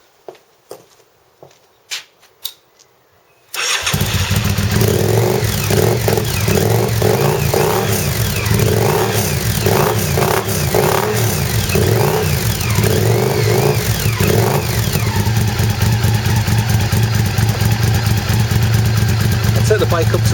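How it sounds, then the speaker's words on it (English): Honda VTR 1000F motorcycle fitted with Vance and Hines titanium exhausts, a few clicks then the engine fires up loudly and holds a rough, throbbing idle with repeated throttle blips, close and continuous. "I'll just start the bike up for you so you can hear the exhausts."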